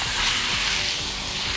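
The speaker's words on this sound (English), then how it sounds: "That way we're going to be stir frying and not stewing." Pork sizzling hard in a hot wok during stir frying, a loud continuous hiss and crackle with faint rhythmic scraping of stirring underneath.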